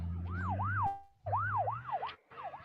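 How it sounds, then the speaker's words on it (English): Ambulance siren from a movie soundtrack, wailing in a repeating rising-and-falling pattern, loud and close, broken by two brief gaps. "But the ambulance ain't moving fast enough"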